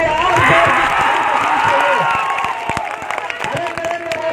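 Applause and cheering from a crowd at a protest rally, with the loudest clapping and shouts at the start, then a lower, uneven murmur of claps and voices that keeps going to the end.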